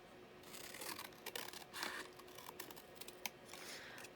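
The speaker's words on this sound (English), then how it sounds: "Now it's on the craft card. So, I mean, obviously, you know, this is not stuck down properly yet, but we'll just cut it out." Scissors snipping through craft card, a faint, close run of small crisp clicks and cuts with a few sharper snips, quiet and without talking.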